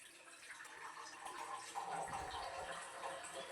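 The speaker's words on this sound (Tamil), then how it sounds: "இன்னும் கொஞ்சம் தண்ணி பிடிச்சிக்கிறேன்." Tap water runs into a container as it fills. The soft, continuous splashing rush is fairly faint and steady throughout, with no voices.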